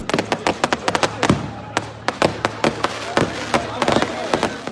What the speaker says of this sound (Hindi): जबरदस्त आतिशबाजी से लाहौर जगमगा उठा।